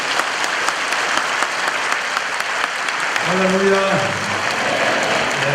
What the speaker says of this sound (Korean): 뜨거운 박수로 우리 선교사님을 맞이하도록 하겠습니다.